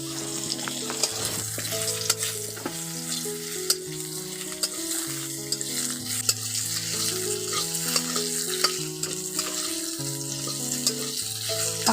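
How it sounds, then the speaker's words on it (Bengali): Green mango pieces fry in oil tempered with black cumin in a home kitchen, giving a steady close sizzle with occasional stirring scrapes and background music. "এর মধ্যে আমগুলো দিয়ে আমগুলোকে ভেজে নেব"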